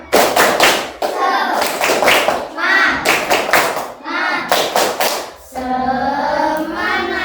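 A group performs the Indonesian "tepuk semangat" clapping chant, loud bursts of rhythmic hand claps in short patterned runs with brief pauses, mixed with shouted voices, ending in a sustained chanted call.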